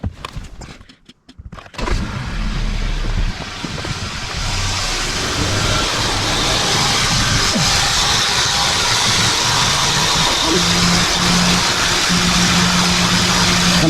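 A Kia Optima engine cranks and fires after an oil change, then settles into a steady, loud idle that runs on evenly after the brief start.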